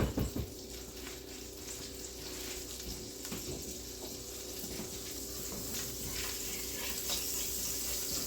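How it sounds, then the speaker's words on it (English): Butter melting in a pot for creamy mushroom chicken and wild rice soup, giving a steady, quiet hiss and sizzle with a faint clatter near the start. "I'm gonna add some of this butter. Let that melt."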